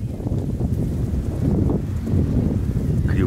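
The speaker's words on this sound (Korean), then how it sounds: "이 야자수 소리를 너무 들려주고 싶었어." Steady wind through palm trees at a beach stay in Nha Trang, a constant rushing, rustling noise that continues unbroken and fairly loud with no voices.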